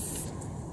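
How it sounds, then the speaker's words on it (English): A close, steady hiss of an aerosol spray being applied to both sides of a car suspension drop link on a Honda Civic Type R K20, a short continuous blast heard alone. "first spray both sides"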